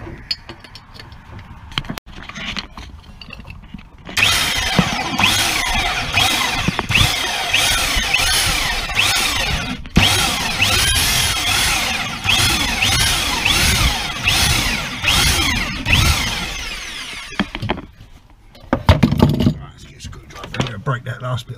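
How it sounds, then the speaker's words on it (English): A power drill cutting holes through wet, layered wood and flooring in a sinking narrowboat, whining steadily for about thirteen seconds with brief pauses, preceded and followed by quieter handling noises. "drilling wet wood or hole cutting wet wood"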